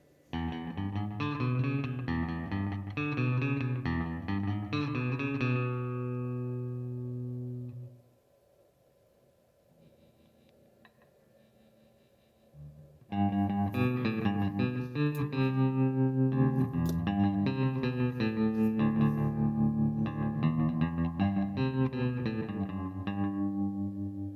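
Electric guitar through a Valeton GP-100 multi-effects unit plays heavily processed, distorted chord presets, then goes quiet for a few seconds before a second effected tone kicks in loud and sustained.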